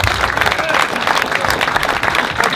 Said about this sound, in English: Keep your applause going, please, ladies and gentlemen.